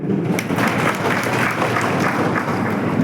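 An audience at a public meeting claps loudly and continuously, a dense wash of applause throughout with faint voices mixed in.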